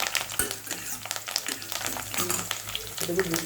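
Garlic sizzling and crackling in hot oil with curry leaves and dried chillies, a steady close frying hiss with irregular pops and spoon scrapes throughout, while preparing a raw mango pickle.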